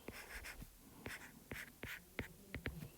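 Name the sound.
writing out a density formula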